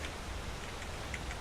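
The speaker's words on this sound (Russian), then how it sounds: "Здесь довольно-таки шумно, я вам скажу. Дождь прям бьет по ушам." Heavy rain pours steadily in the fantasy video game Enderal, a dense, even hiss that fills the whole moment with no pauses and no voices.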